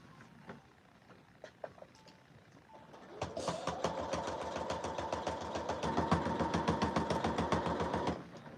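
A sewing machine stitches a collar onto a blouse in a steady, rapid mechanical run of close even pulses, preceded by a few scattered clicks and handling taps before the motor starts.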